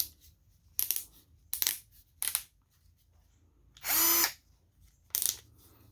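A Bosch PS21-2A 12V cordless drill runs in short bursts, its clutch clicking and ratcheting in quick close pulses, with one longer whirring run of the motor partway through.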